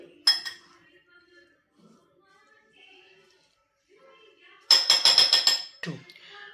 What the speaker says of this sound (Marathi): तर आता ही ड्रेसिंग छानपैकी ह्याच्यामध्ये मिक्स करून घेऊयात आपण